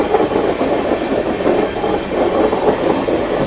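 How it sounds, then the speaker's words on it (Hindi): Indian Railways passenger express train, a Janasadharan Express, running on tracks, heard from inside as a loud continuous rumble with rhythmic wheel clatter and faint squeal, no talking. "अभी हमारी ट्रेन दिल्ली लाइन में मर्ज हो चुकी है।"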